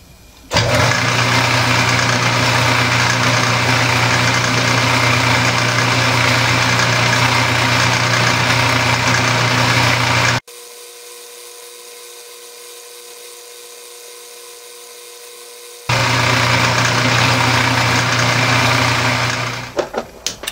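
A metal lathe hums loudly while facing and chamfering a metal part, its steady whine cutting out for several seconds in the middle before the motor resumes and runs again.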